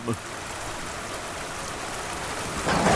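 Steady rain and thunderstorm sound effect, a continuous hiss of falling rain with a faint rumble, swelling louder near the end, behind a storytelling scene.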